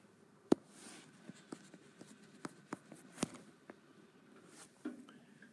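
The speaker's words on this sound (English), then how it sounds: "Let's write that a little neater." Handwriting on a surface during a lesson: soft, intermittent strokes and taps of a pen, fairly close and quiet, with a few sharper clicks and no talking.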